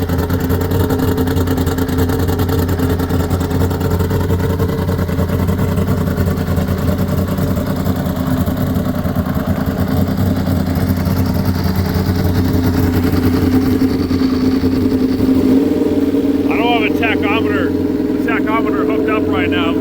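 A turbocharged Honda CBX motorcycle engine runs steadily with its idle set high, giving a continuous loud drone that settles lower near the end, with people talking over it.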